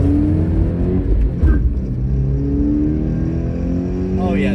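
Engine of a Toyota GR86 with a manual gearbox held at revs, a steady droning harmonic note that rumbles under a voice talking close by.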